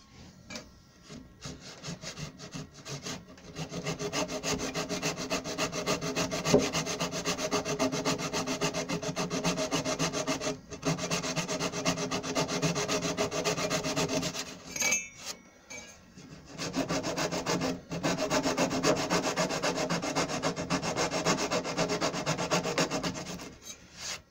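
Wooden gate parts being sanded by hand, a steady close scraping rub that runs continuously for about 24 seconds, broken only by a few short pauses.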